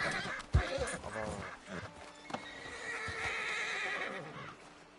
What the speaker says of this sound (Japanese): めっちゃヒヒーンって言ってる。